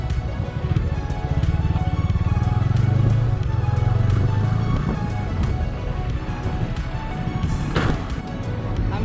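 KTM Duke 250 and Bajaj Pulsar 220F motorcycles drag racing inside a tunnel, engines droning loud and steady with a rising, echoing roar and wind rush throughout.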